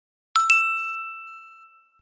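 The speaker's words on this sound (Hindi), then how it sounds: "अगली सुबह रानी के पास प्रतियोगिता वालों का मैसेज आया।" A cartoon message notification chime: two quick bright ding strikes in succession, then a clear ringing tone that decays slowly into silence.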